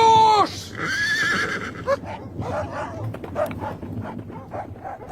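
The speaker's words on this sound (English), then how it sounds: "My horse!" A horse neighs loudly in a radio drama. The rising whinny comes first and is followed by barking hounds and hoofbeats in a busy, noisy chase scene.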